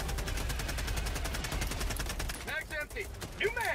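A machine gun in the video game Helldivers 2 fires a fast, steady stream of close, sharp shots for a few seconds, then stops as other game sounds and a voice-like tone follow.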